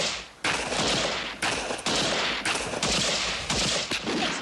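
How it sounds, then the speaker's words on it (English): Gunfire in a 1979 film shootout, dense loud volleys of rapid shots in bursts broken by brief gaps, no voices. "There are wicked people out there shooting real bullets at us."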